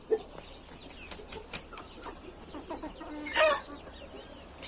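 A rooster and chickens cluck and squawk in a backyard flock, with a wing flap or two and a louder burst of crowing-like calls near the middle, fairly close against steady outdoor background noise.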